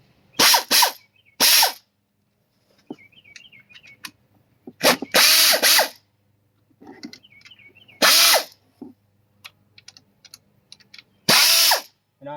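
Astro 1124 1/4-inch mini impact ratchet zipping out intake bolts, loud short whirring bursts repeated several times with quiet pauses and faint clicks between them, plus faint music in the background.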